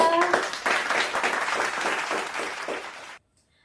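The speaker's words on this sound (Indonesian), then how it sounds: "Tepuk tangan ke kelompok 2." Classroom students applauding a discussion group, a brisk burst of clapping that holds steady for about three seconds and then stops abruptly into silence, with a voice briefly at the start.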